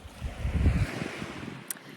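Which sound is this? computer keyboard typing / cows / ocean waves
ocean waves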